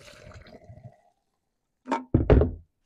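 Fuel dumped out of the tank of a Stihl MS 362 chainsaw, a short liquid splash and pour lasting under a second, coming after a stretch of quiet with faint handling sounds earlier.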